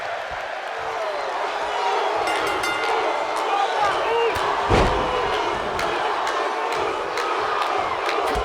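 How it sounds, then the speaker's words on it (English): Video game arena crowd in WWE 2K25 wrestling, loud and continuous cheering and roaring throughout with a brief slam-like thud midway, steady dense noise from start to end. "Crowd's definitely behind Jey."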